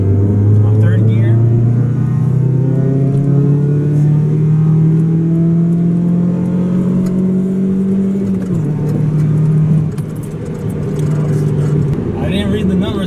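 Car accelerating hard in third gear, a loud steady engine drone rising gradually in pitch for about eight seconds before easing off, with road rumble continuing underneath.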